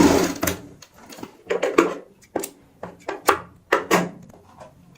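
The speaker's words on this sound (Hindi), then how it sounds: "अब हमें आगे की साइड जो इसका मुंह होता है उसको सीलना होता है, ऐसे सीधी सिलाई से" A sewing machine runs a straight stitch to close the open end of a handmade rose cushion, in short, uneven bursts of clattering stitching separated by brief pauses, close and fairly loud with no talking.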